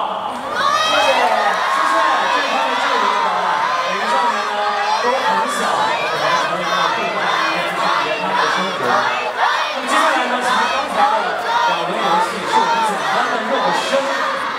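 An audience at a fan meeting in Suzhou screams and cheers loudly without pause. The high-pitched crowd shouting is dense and close, with some voices rising above the rest.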